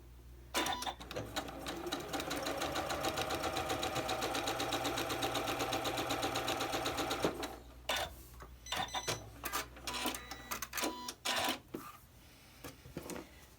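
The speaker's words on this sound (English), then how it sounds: "Put that one on top of there, bring it over to the machine and sew it." A sewing machine stitches together layered triangle patchwork pieces for a diamonds quilt block, a steady loud whirring run of about seven seconds followed by short bursts and clicks as the fabric is handled.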